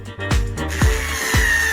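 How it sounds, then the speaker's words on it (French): Power drill boring in short bursts, with three sharp whirring spin-ups that each drop off, close and loud with no voices present. "Je vais tout percer."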